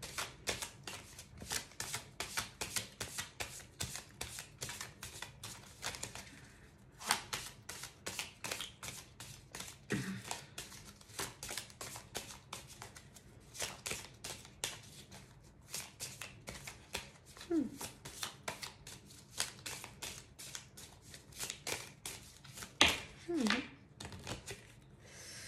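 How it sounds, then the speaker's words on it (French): A deck of oracle cards shuffled by hand at close range, giving a long run of quick, dry riffling clicks in a steady, uneven rhythm. "On prend encore une carte de l'oracle manuscrit."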